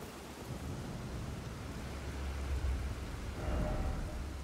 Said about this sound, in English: There's a storm up there? I mean, this sounds like a storm.